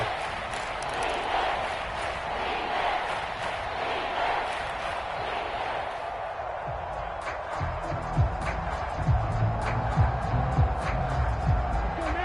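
Broad crowd roar from a football video game stadium swells steadily through the clip, with sharper bursts and thumps near the end as the noise builds before a big third down.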